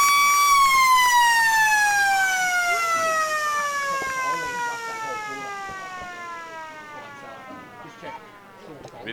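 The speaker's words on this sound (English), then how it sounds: "And the siren's gone." A football ground siren at Gammain Sports Ground sounds to end the third quarter of a Riverina AFL seniors match, Lions against Rovers: one long, loud wail that slowly slides down in pitch and fades over about nine seconds.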